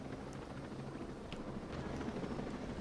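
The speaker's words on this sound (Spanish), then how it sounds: "aquí el helicóptero, poco sitio tenemos para aterrizar" A helicopter in Ghost Recon Breakpoint holds a steady low rotor drone with a broadband hiss over it, constant and moderately loud, with no talk.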